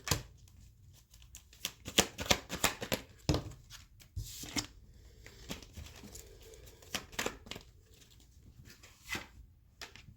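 Tarot cards being shuffled by hand, with irregular bursts of riffling and soft slaps as cards spill and jump loose, close and moderately quiet, with pauses between clusters.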